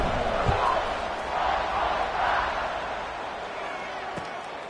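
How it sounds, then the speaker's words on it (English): A stadium crowd at a college football game, Georgia Southern against FAU, buzzes loudly after a touchdown, swelling in broad waves with a couple of sharp thumps and a fading roar toward the end. "this crowd is buzzing after that last score"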